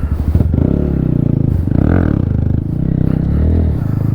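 Motorcycle riding, its engine droning loud and close throughout with a steady pulsing throb and slight rises in revs, no speech over it.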